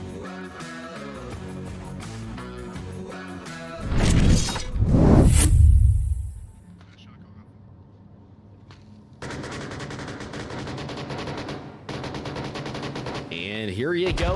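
Barrage of gunfire in the multiplayer match of Onward VR, with rapid automatic bursts, a loud explosive blast with shattering debris midway, then more sustained firing, mixed with game music and ambient noise.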